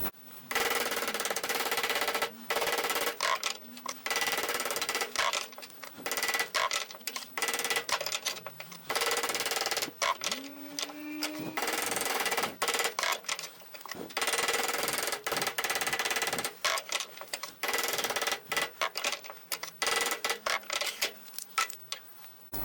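Sheet metal being gently hammered into a dished shape in a home shed, with repeated sharp, fairly loud blows in uneven bursts and short pauses, close by and with no talk.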